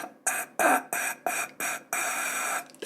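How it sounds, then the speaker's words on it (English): Forceful breathy exhales during a singing lesson, air pushed out under pressure in a series of six or seven short hissing bursts separated by brief silences, the last one held longer, close and fairly loud. "That's the sound of air trying to escape."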